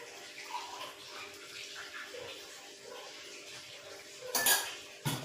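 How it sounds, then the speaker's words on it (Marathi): Herbal kadha decoction is strained into a glass with a steady close trickle of pouring liquid, followed by a couple of sharp clinks from the vessel near the end. "मी आता हा काढा गाळून घेते"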